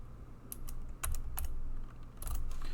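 Steady typing on a computer keyboard while writing JavaScript code, a continuous run of close, crisp key clicks with a few louder strokes standing out, no voices.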